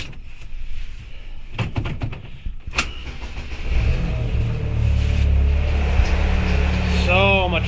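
A 2004 SAAB 9-3 Aero, just fitted with fresh coils, cranks and fires, settling into a steady, loud idle after a few clunks and clicks, with a voice speaking briefly near the start.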